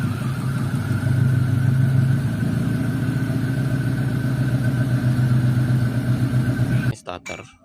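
Universal car remote engine starter, triggered from a watch-style remote, with the engine running steadily and idling loud and close for about seven seconds before it cuts off abruptly near the end.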